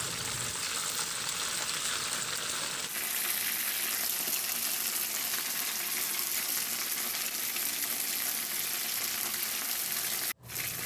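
Chicken fries in oil in a pan, a loud continuous crackling sizzle that swells slightly partway through and holds steady, with one brief dropout near the end.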